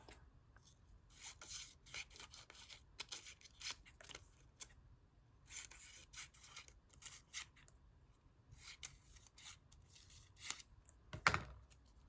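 Scissors cut through paper for a collage in quiet, close bursts of crisp snipping and rasping, separated by short pauses, with a brief thump near the end.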